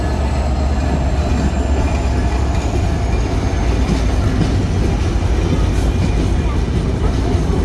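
The Banalata Express, a nonstop train hauled by locomotive 6631, rumbles past at a crossing, loud and close, with a continuous roar, faint wheel clatter and a thin high squeal.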